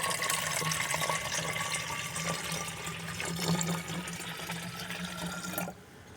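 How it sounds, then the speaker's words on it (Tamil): Water pours steadily and splashes into a filter for several seconds, then stops abruptly near the end. "இதை இந்த ஃபில்டரில் கொஞ்சம் ஊற்றுறோம்"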